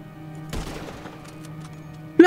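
Gunfire in the GTA 5 zombie mode video game comes as a short burst of rapid shots, then a quieter tail and a loud sound right at the end.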